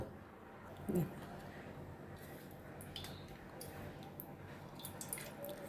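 Food is dipped into water in a plate, giving a faint brief splash and soft dripping, with quiet speech nearby.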